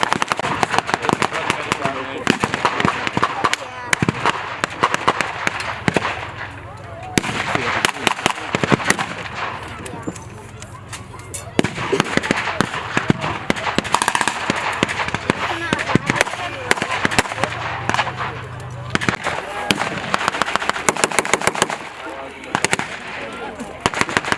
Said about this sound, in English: The Allied artillery fire was fading somewhat.